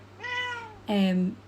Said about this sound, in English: excuse the cat